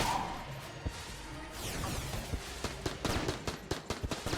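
Rapid bursts of turret gunfire in the twin-stick shooter Enter the Gungeon, a busy run of sharp repeated shots with whooshes and impacts that quickens into dense clustered volleys near the end.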